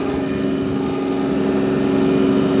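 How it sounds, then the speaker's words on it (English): A Stage 5 diesel engine of a TLE3410 compact tractor runs steadily at a constant idle, close by and loud, with an even mechanical drone and no voices. "This is that engine startup. Isn't that a fabulous sound?"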